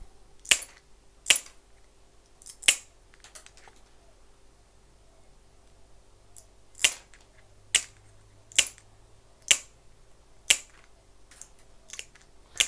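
Sharp, distinct snips of tile nippers cutting a ceramic plate into mosaic pieces, about ten crisp clicks at irregular intervals with brief pauses between, close and clear with no talking.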